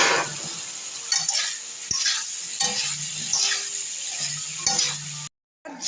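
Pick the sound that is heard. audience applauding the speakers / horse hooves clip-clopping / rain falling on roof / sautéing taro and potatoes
sautéing taro and potatoes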